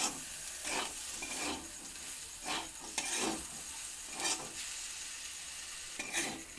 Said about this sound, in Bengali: টমেটোটা গলে যাওয়া পর্যন্ত সবজিগুলো ভেজে নেব